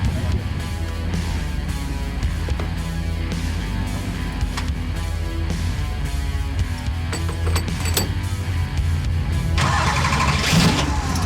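A Bad Co race truck engine cranks, catches and revs hard, loud and close, with rising mechanical roar and brief ratcheting clatter throughout.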